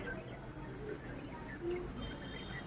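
Pigeons coo softly in the background of a quiet domestic scene, a few faint low rolling calls with light ambient noise and distant activity.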